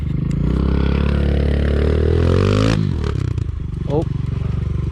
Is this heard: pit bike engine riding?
yes